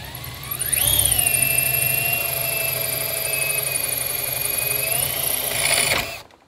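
A small power drill bores into a beach-found seashell being made into a driftwood garland, a steady close whine rising in pitch as it bites, holding for several seconds, then cutting off.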